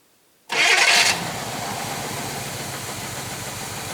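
An abandoned 1966 Chevy Biscayne big-block V8 cranks briefly and fires for its first start in years, then settles into a loud, rough, steady idle after silence.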